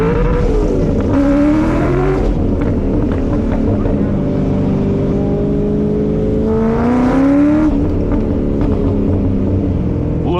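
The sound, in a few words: classic race car revving with a first gear hit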